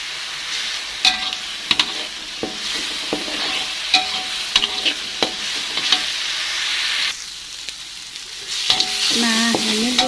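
Spice paste sautéing in a pan for fish tongkol balado, a steady close sizzle and hiss running throughout with repeated scraping, clattering strokes of a spoon stirring, with no talking.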